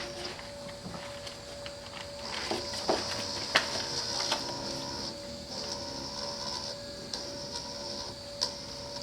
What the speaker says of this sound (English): You can hear the motor is not going too fast.